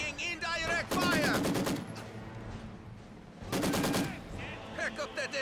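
Heavy machine gun bursts in the real-time strategy game Company of Heroes 2, two long, loud rapid-fire volleys separated by a lull, with faint voices and battlefield chatter around them.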